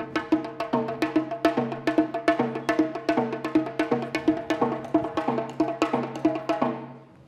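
A changgu, the Korean hourglass drum, is struck in a fast, steady rhythm at a stage show, each hit crisp and ringing before the pattern fades out at the end.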